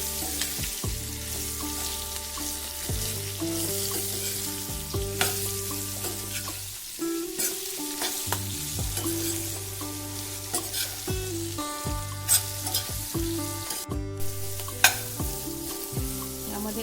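Chili masala with green chilies sautés in a pan, a steady sizzle and hiss under repeated scraping and tapping of a spoon stirring, close and continuous, with faint background music and no speech.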